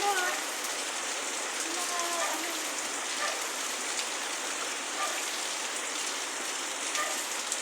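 Steady rain from Typhoon Carina pours down in a dense, continuous hiss, drumming on nearby surfaces with no break.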